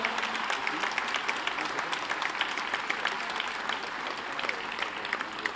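A hall audience at a mayor's New Year greetings event in Courcouronnes applauds the young mayor of Juvisy, a steady, dense wash of clapping held at even loudness throughout.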